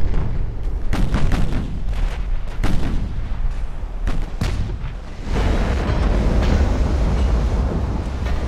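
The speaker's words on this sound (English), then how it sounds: "We got two torpedo hits for over 900 damage." Torpedo hits explode against a warship in the naval game Ultimate Admiral Dreadnoughts, a series of heavy booms and rumbling blasts that give way to a sustained roaring wash of battle noise.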